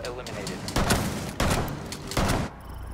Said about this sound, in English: I was shooting him in the back